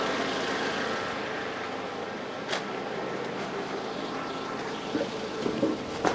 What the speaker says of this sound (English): The fan just kicked in.